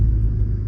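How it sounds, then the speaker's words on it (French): A Ford Mustang EcoBoost four-cylinder accelerates, giving a loud, steady low engine rumble heard close up with no talk, over less than a second. "C'est la première fois que j'accélère avec la voiture."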